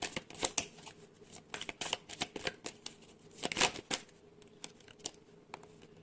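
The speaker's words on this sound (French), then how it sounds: "On va prendre 3 cartes du tarot." Tarot cards shuffled and drawn by hand at a reading table, a quick run of crisp papery flicks and snaps, close and fairly loud, with short pauses between bursts and no talk.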